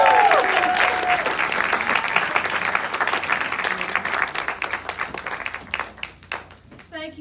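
An audience at an event applauds to welcome Nassau County Executive Laura Curran, dense clapping filling the room loudly and then thinning out into scattered individual claps by the end.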